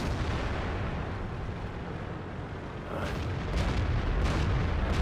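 A T-34-85 Rudy, a tier 6 Soviet premium medium tank, fires its gun in a video game. Muffled booms come over a steady low rumble, with a few sharp reports toward the end.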